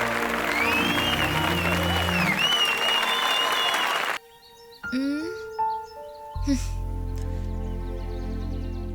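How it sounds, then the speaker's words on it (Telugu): Dense crowd applause fills the first few seconds, then cuts off abruptly, followed by chimes and music-like tones. "ఇంకా గట్టిగా చప్పట్లు కొట్టి ఉత్సాహపరచండి విద్యార్థులారా"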